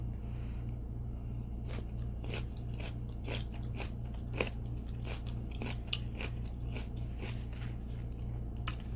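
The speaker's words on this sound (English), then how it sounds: "Alright, so let's give this a try. My first time ever having the bok choy." Crunchy bites and chewing of stir-fried bok choy with soy sauce, a steady series of crisp crunches close to the mic over a constant low hum.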